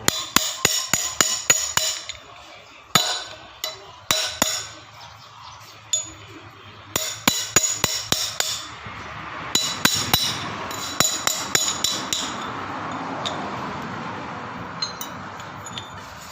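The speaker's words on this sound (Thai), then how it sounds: "ใส่แล้วก็ใช้ค้อนตอกนะครับ" Sharp metallic hammer blows driving a wheel seal into place on a small truck, in quick bursts of several strikes, pausing between runs, ringing close and loud, fading into a softer rushing background toward the end.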